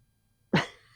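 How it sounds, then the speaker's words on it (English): A dog gives a single short, abrupt bark or huff in a quiet room, close and fairly loud, fading quickly with no voices. "that's my dog"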